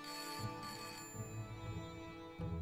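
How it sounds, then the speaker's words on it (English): A telephone rings in the adventure video game Broken Sword: Shadow of the Templars, a steady electronic ring sounding throughout, moderately loud with a bit of background music or ambience. "And how about ringing Nico?"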